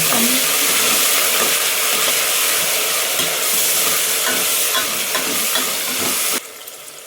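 Ginger-garlic paste frying and stirred in a pan for haleem gives a loud, steady, broadband sizzle with repeated scrapes of a spoon, dropping off abruptly near the end.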